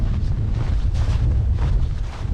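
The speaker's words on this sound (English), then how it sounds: "this wind feels like I'm on the top of a mountain right now" Strong wind on a winter hiking trail at Moraine Hills State Park roars steadily into the microphone, a loud, low buffeting rumble with gusty surges and no voices.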